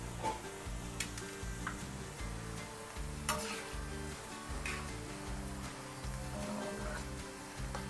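Boondi, small drops of batter for boondi laddu, fry in hot oil on high heat with a continuous close sizzle and light crackling over a low, steady rumbling hum.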